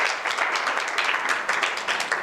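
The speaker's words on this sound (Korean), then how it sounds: "우리 박수 한번 크게 칠까요?" Audience applause after a call from the front of a classroom-style gathering for a big round of clapping, a steady dense patter of many hands, fairly close and even throughout without pause.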